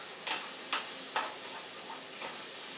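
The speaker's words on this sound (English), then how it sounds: "Is to saute and let these veggies sweat down and just kind of, you know, let the sausage actually cook." Vegetables and sausage sautéing in a pan for homemade jambalaya, a steady soft sizzle with a few brief stirring scrapes, no talking.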